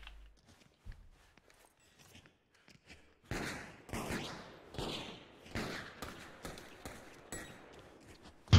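Gunfire from the multiplayer game Deceit, several sharp shots spaced about a second apart, each with a short echoing tail. They follow a quieter stretch of faint footsteps and thumps.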